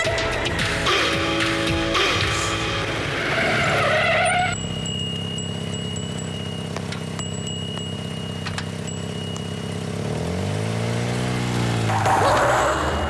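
A car pulls away with squealing, skidding tires, the screech rising and sliding in pitch over a steady engine roar, loud and close, with a dog barking briefly in the mix.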